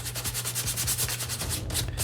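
Sandpaper rubs back and forth along the edge of a scratch-built bunker piece to bevel it, a close, rhythmic scratchy rasp with about eight even strokes over two seconds and no talking.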